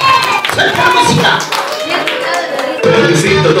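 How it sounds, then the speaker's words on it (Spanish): Audience at a 2019 school year closing ceremony clapping in a dense, continuous burst, loud and close, with shouting voices and crowd noise mixed through it. "¡Aplausos para ella!"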